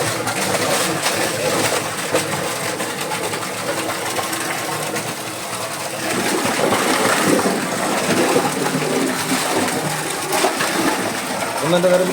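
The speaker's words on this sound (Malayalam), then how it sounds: "കിണറിൽ മോട്ടർ വെച്ചിട്ട് ആ മോട്ടറിലെ വെള്ളം കിണറ്റിലേക്ക് തന്നെയാണ് അടിക്കണം" An electric motor in a well pumping water that pours back into the same well, a steady loud hum and rushing splash throughout, with no pauses.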